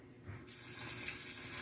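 Tap water runs into a bowl of dried beans in a kitchen sink, a steady hissing gush that starts after a quiet moment and continues alone at a fairly soft level.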